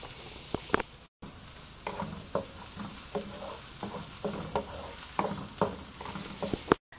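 Onion and garlic fry in oil in a pan for a pork asado filling, a steady close sizzle broken by repeated scraping stir strokes and one sharp clatter near the end, with no talking.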